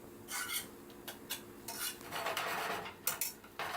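A utensil scrapes and clinks against a pan while flour is stirred constantly for turkey gravy, producing irregular bursts of scraping and metallic taps, close and moderately quiet, with no talking.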